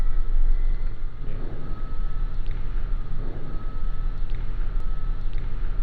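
Cessna Citation Bravo twin jet engines roar steadily through the takeoff roll, heard from inside the cockpit as a dense, constant rush with a thin whine on top and no talk.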